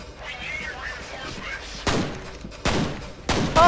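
Pistol shots in the shooter game F.E.A.R., three sharp loud reports spaced apart over a murmuring game background, with a voice speaking underneath.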